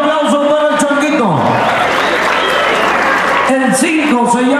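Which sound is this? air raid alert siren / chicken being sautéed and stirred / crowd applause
crowd applause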